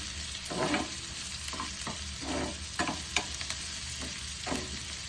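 Chopped onions sautéing in a pan: a soft, steady frying hiss runs under repeated scraping stirs and light clicks of a spatula against the metal, arriving in uneven bursts across the whole stretch.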